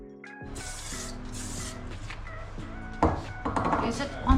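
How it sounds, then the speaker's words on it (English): Citrus cleaner hisses in several short spray bursts onto the tank of a Suzuki GSX-R 750 being rebuilt for racing. The bursts are close and distinct, and clattering handling noises follow near the end. "It's a citrus cleaner."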